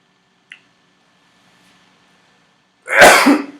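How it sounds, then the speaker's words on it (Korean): A single sharp sneeze bursts out loudly near the end, after near silence broken only by a faint click, in a quiet room during a calculus lecture. "잠깐 재채기를 했고요"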